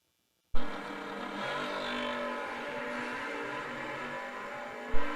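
Drag race at a Camaro event, a third-gen and a second-gen Camaro, with a steady engine drone heard from a distance after an abrupt start and a louder burst near the end.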